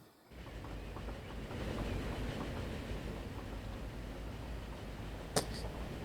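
An express Pullman train running in Transport Fever 2, a steady low rumble of rolling wheels with a faint rhythmic clatter and one sharp click near the end, moderately quiet and continuous, no voices.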